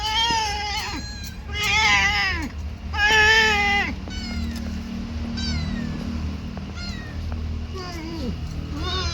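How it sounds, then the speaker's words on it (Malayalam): Two hungry cats meow repeatedly at a family home while fresh small sardines are cut nearby. The cries are loud, close and drawn out, coming in overlapping bursts with short gaps between them. "ഇവിടെ 2 പൂച്ചയുണ്ട്."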